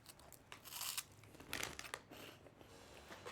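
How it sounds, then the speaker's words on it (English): Someone eating cheese puffs, a few quiet close crunches and crinkles spaced irregularly, faint and without talk. "if you hear me crunching, it's because I have cheese puffs"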